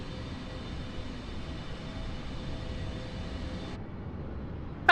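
A propeller airliner droning steadily in flight in Microsoft Flight Simulator, a continuous low engine hum at even loudness that cuts out abruptly near the end before a brief click.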